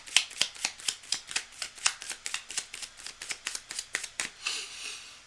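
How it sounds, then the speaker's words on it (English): Tarot cards are riffled and shuffled close up in a quick run of crisp flicks, about twenty sharp snaps in steady rhythm, ending in a soft slide. "We're going to just shuffle it up"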